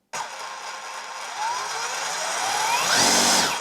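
A Bosch PROFATOR 18V SDS-plus rotary hammer, model GBH18V-34C, in auto mode runs up from a start to full speed, its whine rising steadily in pitch over a few seconds, loud and close with no talk.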